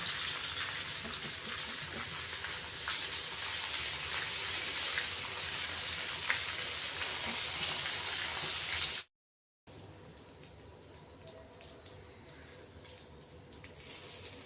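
Green chillies pan-roasting over a low gas flame give a steady, soft hiss of sizzling that runs for several seconds, cuts out briefly, then resumes more faintly.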